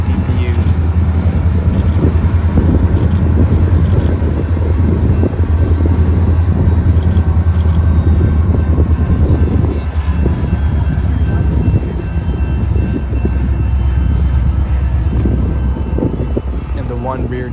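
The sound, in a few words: Union Pacific grain train passing with mid-train DPU locomotives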